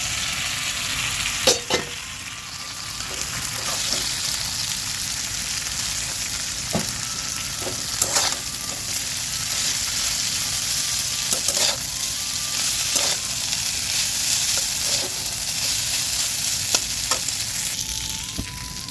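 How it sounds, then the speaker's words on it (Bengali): Pasta sizzling and frying in plenty of oil in a pan, a steady loud hiss broken by occasional stirring scrapes and clicks. "পাস্তাটা দিয়ে একটু বেশি সময় ভাজতে হয়"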